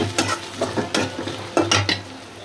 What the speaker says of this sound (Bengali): সুন্দর করে ভাজা ভাজা করে নেই।